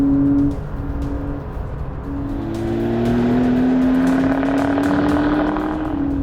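A Porsche 911 Carrera S of the 992 generation accelerates hard out of a corner, its engine note climbing steadily and loud up close, with a brief lift before the pull resumes.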